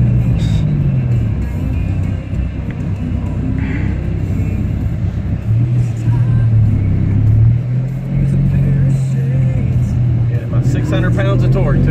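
A 645-horsepower Dodge Viper accelerates hard with a loud, steady engine roar whose pitch climbs and holds, heard from inside the car over continuous rumble, with people talking.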